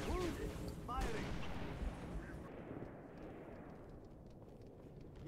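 Gunfire in the Halo: Reach campaign, a dense run of sharp repeated shots that is loud at first and then trails off into a quieter rumble, with a voice talking beneath it.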